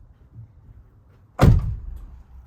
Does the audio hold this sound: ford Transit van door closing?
yes